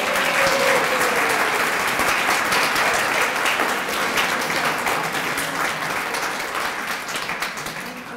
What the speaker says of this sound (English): can we please give her a round of applause?